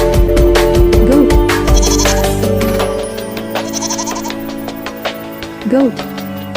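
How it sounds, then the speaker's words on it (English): A domestic goat bleats repeatedly, loud wavering cries close by, with further quieter bleats and background farm sounds fading toward the end. "Goat."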